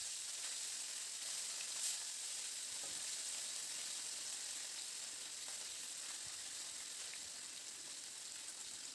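Rui fish pieces marinated in salt and turmeric fry in mustard oil, a faint, steady sizzle that holds evenly throughout without talk.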